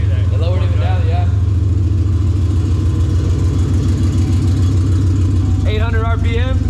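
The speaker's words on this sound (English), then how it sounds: "That idling is pretty damn good." A Ford Coyote V8 freshly swapped into an SN95 Mustang idles steadily at about 800 RPM, a loud, even low rumble throughout, with people talking over it near the start and end.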